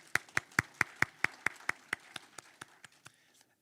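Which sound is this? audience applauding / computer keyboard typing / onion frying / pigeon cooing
audience applauding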